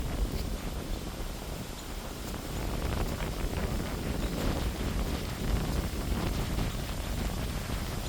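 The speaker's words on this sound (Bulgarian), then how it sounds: "Доста е ветровито." Steady broadband wind rumble buffets the microphone throughout, a constant roaring hiss with no voices.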